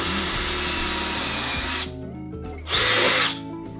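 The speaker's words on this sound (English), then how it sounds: "We're going to drill a bigger hole." A power drill bores a larger hole for kayak anti-theft hardware, a loud steady whine that cuts off, then a short second burst, close up with no talk.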